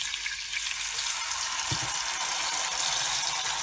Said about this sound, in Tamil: சட்னியை ஊற்றிடலாம்.